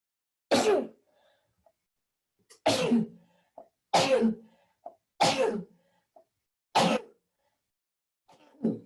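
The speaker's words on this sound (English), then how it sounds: "Excuse me, I got to sneeze here." Five or six short, loud bursts of sneezing or coughing by one person, evenly spaced with silence between them.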